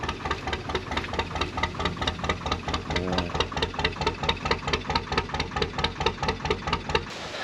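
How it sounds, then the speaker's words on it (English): A narrowboat's engine runs nearby with a steady, rhythmic thumping beat, a fast even chug carrying on throughout at moderate volume with no talking. "the chap with a very pretty boat that we've just heard running"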